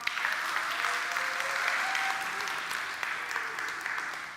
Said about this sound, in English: One more round of applause for those online as well.